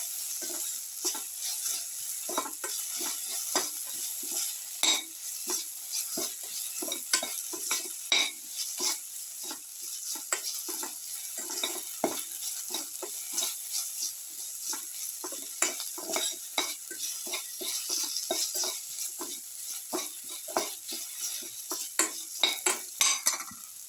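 Food being stirred and mixed with salt in a pan for a beetroot and potato dish, a steady stream of dense scraping and clinking of a spoon against the pan with a soft sizzle underneath, close and continuous.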